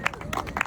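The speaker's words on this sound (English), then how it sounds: "round of applause" Brief burst of applause at a press conference, scattered hand claps and crowd noise in a short, busy flurry.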